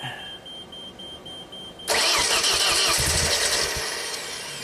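A JLG lift engine that has sat unused for two years cranks and catches, jumping from a quiet whine into a loud, rough, sustained mechanical roar that slowly eases off, close by with no talking.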